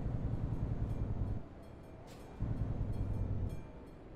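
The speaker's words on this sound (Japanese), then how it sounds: "ちょうど列車が来てますね。" Train rolling past a level crossing in Euro Truck Simulator 2, a steady low rumble with rhythmic pulses that swells, eases briefly, then returns, heard alone at moderate volume.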